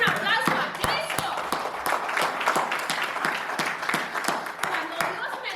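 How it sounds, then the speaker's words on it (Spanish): A church congregation applauding during a sermon, dense steady clapping from many hands filling the room, with a voice speaking over it. "Por favor, denle un aplauso a Cristo"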